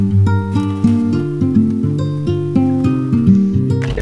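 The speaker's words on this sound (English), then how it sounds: "He played this classical guitar" Classical guitar played solo, with plucked nylon-string notes and chords ringing out in a steady, flowing pattern. It sounds close and clear throughout, with no voices.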